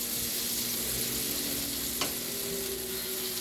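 Garlic sizzling in butter and oil in a pan, a steady, close frying hiss that runs unbroken, with one brief clink partway through and no voices.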